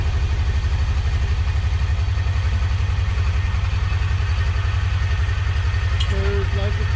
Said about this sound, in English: and now she starts good.